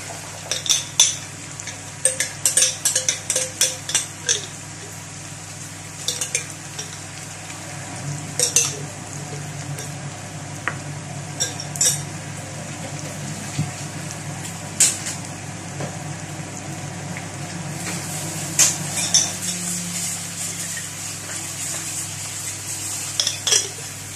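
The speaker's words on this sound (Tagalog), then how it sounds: "Haluin." Pork bicol express with shrimp paste being stirred in a pan: repeated scraping and clinking of a utensil against metal in bursts over a steady low sizzle, close and fairly loud, with no talking.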